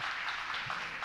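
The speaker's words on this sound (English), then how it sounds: "Now we got claps." Audience clapping at a livestreamed Nikon mirrorless camera announcement for the Z6 and Z7, a brief steady patter of many hands heard at moderate level, slightly distant, with no speech over it.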